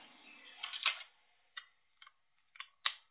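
Kitchen timer being set for bread in the oven, a short burst of clicks and then a few separate ticks spaced out, close and fairly faint, with no voices.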